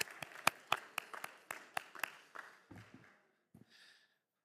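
Applause for the staff at a university student governance symposium: a run of sharp, evenly spaced claps, faint and close, slowing and thinning out within three seconds, then a couple of last scattered claps before silence.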